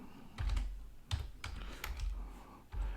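Close, quiet typing on a computer keyboard, a few short bursts of soft clicking keystrokes separated by brief pauses, with no talking.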